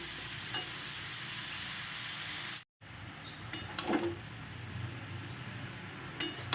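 Grated carrots for carrot halwa fry quietly in ghee, a soft sizzle underneath, with occasional clinks and scrapes of a utensil stirring the pan.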